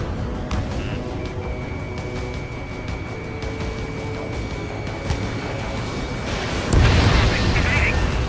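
A target blows up in the Ace Combat 7 flight combat game, a loud booming blast that swells near the end over a steady roar of jet engines and a continuous background drone.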